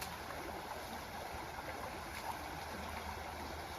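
A small trout stream flows steadily, its broadband rush and gurgle constant and close throughout, with no voices over it.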